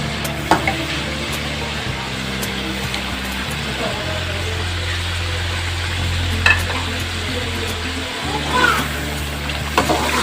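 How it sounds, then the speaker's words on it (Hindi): Chicken pieces fry in a pan for biryani, with a steady loud sizzle under repeated scraping and stirring of a utensil against the pan, alongside a low hum. "अब इसमें चिकन डाल देंगे।"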